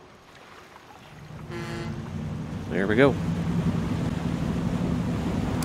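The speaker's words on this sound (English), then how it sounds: "you can see some of the water effects they talked about going on with the new game" Ferry gliding across water in Farming Simulator 25, a steady low engine hum and water wash running throughout, with a short voice near the start and a brief chirpy sound effect midway.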